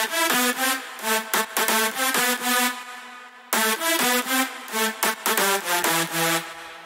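A beefy EDM drop lead synth in FL Studio, processed through reverb, EQ, compression and a very short 40% mix reverb, plays stuttering chord stabs with a slight tail, in two loud phrases separated by a brief pause.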